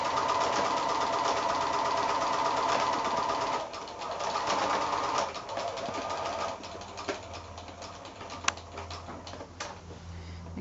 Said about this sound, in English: So we're just continuing on here with this little applique stitch or the blind hemming stitch.